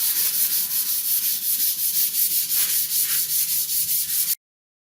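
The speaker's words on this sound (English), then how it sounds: "What I'm going to do is now take some 200 grit sandpaper and sand these." Steady, continuous hand sanding with 200 grit sandpaper over a repaired car bumper, a close, even rasping scrub in rhythmic strokes that stops abruptly near the end.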